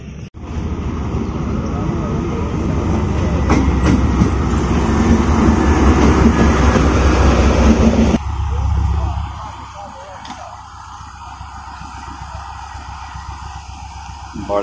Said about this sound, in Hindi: बड़ी ऑकवर्ड सी जगह पे आके ब्रेक लगाई है ड्राइवर साहब ने। ये बदर एक्सप्रेस है